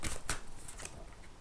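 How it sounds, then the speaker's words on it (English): Tarot cards shuffled by hand, a few short papery riffles and soft slaps, close and quiet with no talking. "So now I'm just gonna shuffle these tarot cards"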